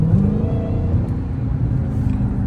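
A 2023 Dodge Challenger SRT Hellcat Jailbreak Redeye on a night drive, its engine giving a steady, loud low rumble from inside the cabin with slight shifts in pitch and no voices.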